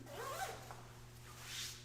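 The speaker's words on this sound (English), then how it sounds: "The water repellent zippers, water repellent main zipper." A water-repellent zipper on a jacket is drawn in two quick zips, close and clear against a quiet background hum, with no talking.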